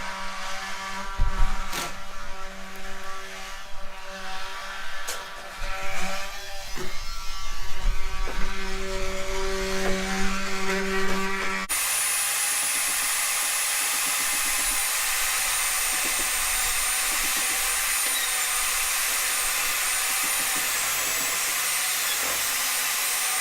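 A power tool cutting kerfs into the back side of timber for a timber-framed gable, with intermittent clunks and knocks at first, then a steady, loud, continuous whine and roar of the cutting.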